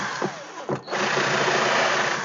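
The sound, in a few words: power drill widening holes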